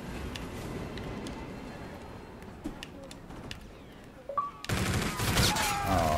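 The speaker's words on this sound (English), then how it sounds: "I forgot I had a fucking shotgun." Several sharp gunshot cracks ring out in Call of Duty: Infinite Warfare during a shotguns-only match, followed by a louder, denser burst of firing and game noise near the end.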